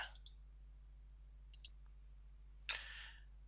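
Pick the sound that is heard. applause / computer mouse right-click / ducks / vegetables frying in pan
computer mouse right-click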